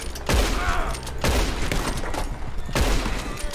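Gunfire in Red Dead Redemption comes as three heavy, booming shots spaced about a second apart. Each blast is followed by a rumbling tail, with rough background noise between them.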